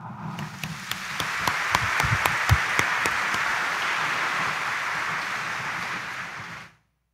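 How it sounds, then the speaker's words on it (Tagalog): A church congregation at a morning Mass in Quiapo Church bursts into loud, sustained applause, a few sharp claps up close at first, then a dense, even roar of clapping that cuts off abruptly. "iparinig niyo sa Jesus Nazareno ang inyong malakas na palakpak"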